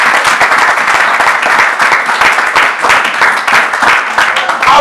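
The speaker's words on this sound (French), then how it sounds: "Acclamez pour lui." Church congregation applauding together in a loud, sustained burst of clapping that carries steadily throughout, dense and close with crowd noise mixed in.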